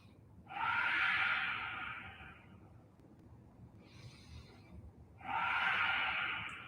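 Slow nasal breathing during a sunrise hatha yoga class, with a long airy inhale, a quieter pause, then another drawn-out breath, close and soft.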